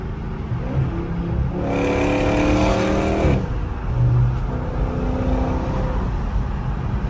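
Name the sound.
Scat Pack car engine exhaust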